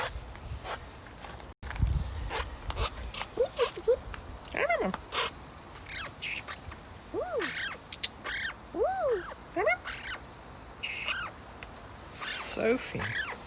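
A pet bird indoors gives repeated whistled chirps and rising-falling calls at irregular intervals, close and clear, with a sharp thump early on.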